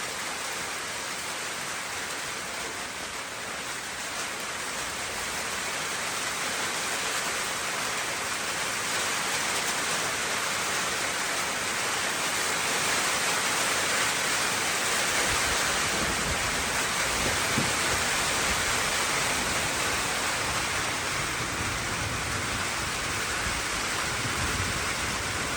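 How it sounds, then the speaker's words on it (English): Steady rain falls during a hike to Champa Devi Mai Temple near Bosan, Kirtipur, a dense continuous hiss of drops on surfaces that swells slightly midway, with no voices. "Oh, it's still raining, but we don't care about rain."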